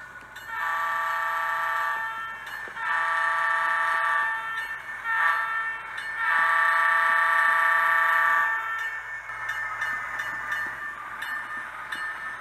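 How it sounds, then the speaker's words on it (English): A model train sounds its horn in several long blasts separated by short gaps, with a faint mechanical hum running underneath. "I'm going to cut off my train and I'm going to pick up that PC boxcar over there"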